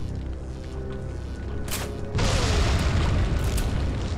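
A deep boom bursts in suddenly after a steady mechanical hum and keeps rumbling loudly: a bow gun explosion in Resident Evil 4 on PS2.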